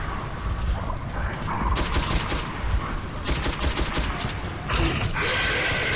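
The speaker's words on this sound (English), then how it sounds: "silenced rifle with stock. One hit KO if you shoot him in the head" Silenced rifle with stock firing in Metro 2033, several sharp muffled shots in irregular bursts over a busy, noisy game background, loud and close with no talk.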